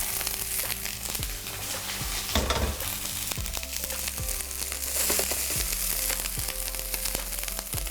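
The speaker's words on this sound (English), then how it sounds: "Now the beans go in." Green beans fry in a hot pan with ginger, giving a constant loud sizzle broken by repeated scraping and stirring clatters of a utensil against the pan, with no talking.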